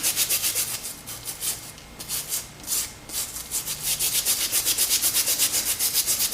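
A bristle brush scrubs rust off the tang of an old knife in steady, close back-and-forth strokes, a rhythmic rasping scrub that pauses briefly near the middle before settling into an even pace.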